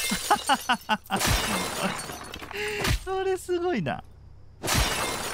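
Window glass shatters in the open-world crime game Crime Simulator, with bright crashing bursts of breaking glass at the start and end of the clip around a short spoken comment.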